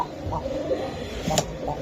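A female Giribaz pigeon coos close by in soft, rounded, repeated calls over a faint background hum.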